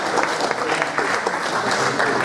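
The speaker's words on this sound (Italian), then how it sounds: "io gli farei un applauso a Bastianino" Audience applause in a hall at a lecture on Sardinian guitar song in Thiesi, a steady dense clapping that stays loud and continuous throughout.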